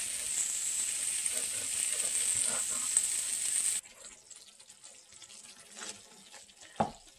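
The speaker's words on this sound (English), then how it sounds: "I think I may add some water to this." A kitchen tap runs water into a coffee and creamer mix for a keto drink, a steady hiss that stops abruptly midway, followed by faint clinks and handling sounds.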